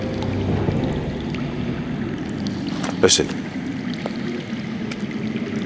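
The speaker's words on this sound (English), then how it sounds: "I hear water. From underground." Water flows underground in the Game of Thrones game as a faint, continuous rushing and rumbling under the ambience. A single short spoken word cuts in near the middle.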